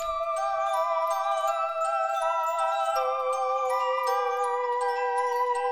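A bright, twinkling synth piano preset plays a steady melody of sustained chiming notes, dry and clear with no echo or effects, and no voices.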